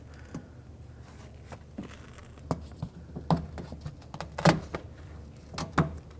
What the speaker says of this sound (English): Now let's peel off this vapor barrier.